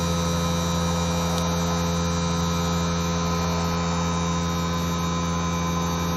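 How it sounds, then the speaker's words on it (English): A heat pump runs its defrost cycle outdoors at -30C, clearing frost from its back coil with a loud, constant droning hum and a steady hiss that never lets up. "You can hear the defrost cycle now. It's defrosting the frost that was on the back"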